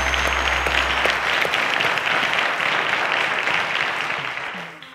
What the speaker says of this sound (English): A round of applause to them, guys.